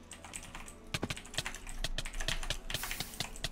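Rapid clicking from a computer mouse during jitter-click play in a PC game, sharp dense bursts of clicks with some keyboard-like taps, close and fairly loud with no talking.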